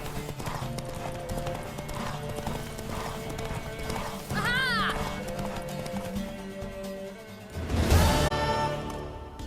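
A horse gallops in The Witcher 3: Wild Hunt, rapid steady hoofbeats under game music, broken by a loud neigh midway and a heavy burst near the end.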